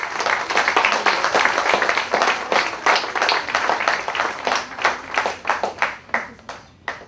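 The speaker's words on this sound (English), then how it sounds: "let us all give a big round of applause to ourselves" Audience applause at a graduation ceremony: many hands clapping loudly and continuously, then thinning into slower, more spaced individual claps as it winds down.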